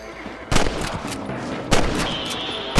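Gunshots fired at rabbits in Red Dead Redemption, three loud, sharp cracks spaced about a second apart, each with a short echoing decay over a steady outdoor game ambience.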